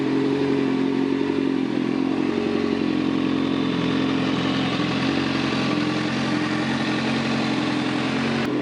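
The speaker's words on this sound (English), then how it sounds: "Engine sounds good. I love this stainless 4-to-1 exhaust I put on this bike." Close up, a Kawasaki ZZR 600 motorcycle idles as it warms up through a stainless 4-to-1 exhaust, giving a steady, even, slightly clattering engine note throughout with no talking.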